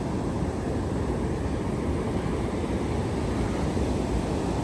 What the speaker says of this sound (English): Here we have the Atlantic Ocean.